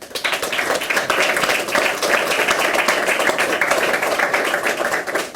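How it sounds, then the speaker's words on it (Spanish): A large audience breaks into sustained, loud applause at a songwriters' debate event, dense clapping filling the room steadily from start to finish without any speech. "quisiera pediros con mucho corazón un enorme aplauso, por favor"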